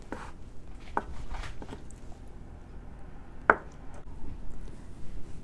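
A knife cuts tofu into bite-size pieces on a board, giving a few soft, widely spaced taps and one sharper knock over a quiet room background, with no speech.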